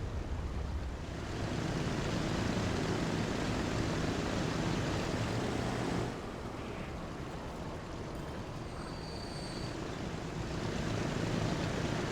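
Hercules propeller transport plane engine in the game Transport Fever 2, a steady airy drone that drops a little in level partway through and then swells again, with no talk.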